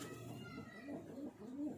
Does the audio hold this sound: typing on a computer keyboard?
no